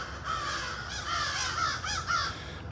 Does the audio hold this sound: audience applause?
no